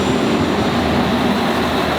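A passenger train from Tralee or Mallow bound for Dublin arrives at a station, a dense continuous rumble and roar of rolling railcars filling the short stretch at close range, with no voices.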